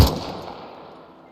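A single M16 rifle shot fired in a video game at a USSR vehicle: a sharp, loud crack at the very start, then a long reverberant tail that fades away, with no voices.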